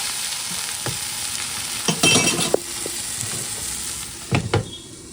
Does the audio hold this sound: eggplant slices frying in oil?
yes